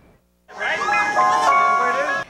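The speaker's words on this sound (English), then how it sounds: "the new way to fight crime on Boston streets, an ice cream truck" Ice cream truck jingle used by police on Boston streets, a bright chiming melody played loud and close for about two seconds, standing alone without talk.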